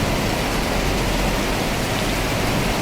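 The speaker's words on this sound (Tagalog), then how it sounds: "Lakas ang tubig" Strong floodwater rushing near a bridge slab during a flood, a dense, loud, continuous roar of churning water with no breaks and no voices over it.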